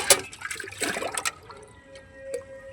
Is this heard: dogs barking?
no